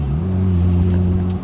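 A modified Porsche 996 Turbo with a BBI barcode exhaust, custom cat deletes and changed tips idles with a deep, steady rumble, close and loud, holding a constant low drone before easing off at the end.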